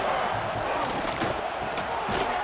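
A virtual stadium crowd in College Football 26 roars steadily during an Ohio State Buckeyes versus Michigan game, a dense, loud wash of cheering with no pauses.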